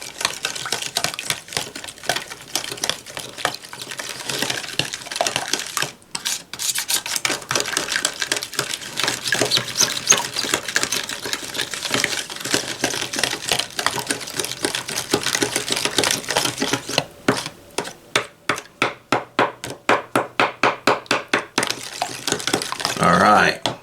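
Yeasted donut dough is mixed in a bowl, probably with a machine, producing a continuous close clattering and whirring with rapid rattling pulses that grow more distinct near the end. No one speaks.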